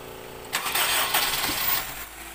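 A 2002 Honda CR-V with a K20 engine, just fitted with a new starter, cranks briefly and catches, settling into a steady running roar close by with no talking.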